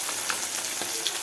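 Kiryan fish rubbed with chili powder, turmeric, salt and black pepper frying in a pan on a stove, with a steady, dense sizzle throughout and a few brief crackles.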